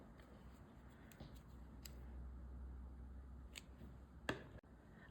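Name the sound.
scissors cutting crochet yarn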